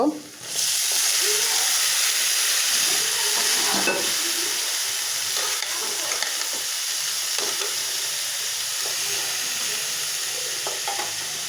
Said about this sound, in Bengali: তেলের সাথে আমি হলুদটা ভেজে নিলাম